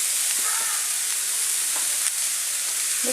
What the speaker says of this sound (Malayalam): ഇതിലേക്ക് കുറച്ച് വെള്ളം ഒഴിക്കാം.